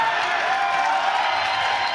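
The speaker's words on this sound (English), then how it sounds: "you hear these chants of "Don't fire Eric" echoing through the Court Time Sports Center" Crowd chanting echoes through the Court Time Sports Center at a wrestling show, a steady, dense mass of voices filling the arena at constant loudness with no break.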